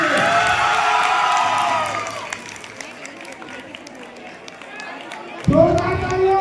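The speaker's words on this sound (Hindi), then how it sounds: "एक बार जोरदार तालियां अमन प्रेम के लिए" At a 12th-grade school farewell event, a crowd claps and cheers at a moderate level under a loud amplified voice, with the voice returning strongly near the end.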